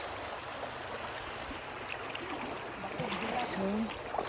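Water flows in a stream along a mountain trail on Mt. Kiamo in Bukidnon, a steady broadband rush close by, with faint voices in the background.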